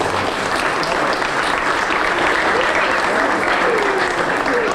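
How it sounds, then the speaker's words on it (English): Loud, dense round of applause from a gathered crowd at an outdoor company ribbon cutting, continuous and steady for several seconds. "Round of applause for those guys"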